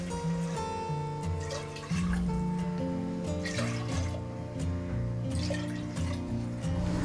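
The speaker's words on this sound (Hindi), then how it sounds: "चार कप पानी हमने डाल दिया है" Water pours into a pot of cooked masoor dal, a steady splashing trickle with dripping that runs throughout at close range.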